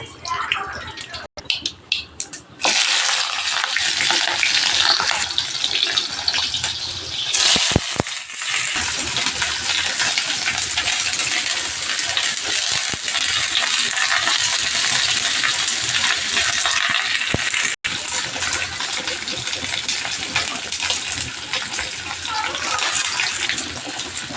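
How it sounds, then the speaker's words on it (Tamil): Mustard seeds hit hot oil in a kadai for a greens dish, setting off a loud, continuous crackling sizzle that runs almost without break, with a couple of brief dips. "இது வந்து கீரைக்காக கொஞ்சம் கடுகு இதுலேயும் கடுகு சேர்த்திடலாம்"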